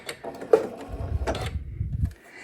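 A sewing machine making a single short stitch run on an appliqué: a close mechanical whir and clatter lasting about a second, after a couple of light clicks, then stopping.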